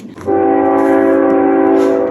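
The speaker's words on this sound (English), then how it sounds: "A damn train." A train in the United States passes close by and sounds a loud, sustained horn blast with steady tones that holds for about two seconds on its own.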